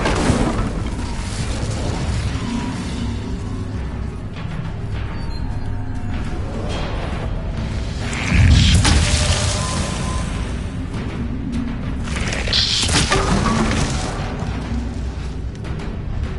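The Incendio fire spell cast in a video game: a deep boom of flame about halfway through, followed later by a second fiery burst, over steady loud game ambience, with no voices.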